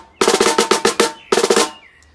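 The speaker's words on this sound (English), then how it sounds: "next we'll have the snare in the middle of the caixa" Caixa, the Brazilian-style snare drum, played close and loud with a rapid run of crisp, rattling hits, a short pause, then a second burst before it falls quiet.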